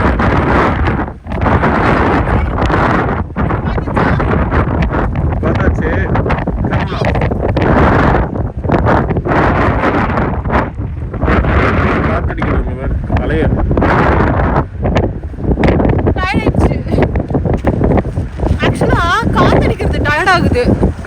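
Strong beach wind buffets the microphone in a continuous loud roar with gusty surges, while someone talks throughout over it.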